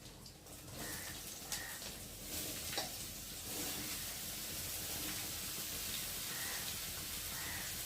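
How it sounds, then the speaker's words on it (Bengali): Potatoes, snake gourd and green chilies frying in a pan with browned onion, giving a steady, close sizzle with intermittent stirring scrapes and small crackles throughout, no talking. "আলু আর চিচিঙ্গে আলুর সাথে লঙ্কা রয়েছে কষা লঙ্কা একসাথে দিয়ে ভালো করে ভেজে নেব"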